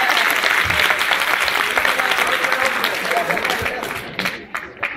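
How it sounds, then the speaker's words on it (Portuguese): An audience at a school music performance claps in dense, loud applause that carries on steadily, then thins and tapers into scattered claps near the end. "Aí eles têm aplausos para a Alexandra."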